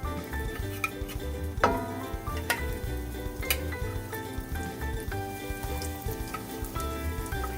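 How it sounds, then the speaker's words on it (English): Tuna cakes frying in oil in a pan: a faint, steady sizzle with scattered pops and light clinks, and music underneath throughout. "now we're going to put the cakes inside the pan with the oil"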